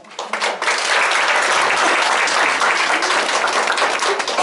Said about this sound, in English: So they all deserve a special little round of applause.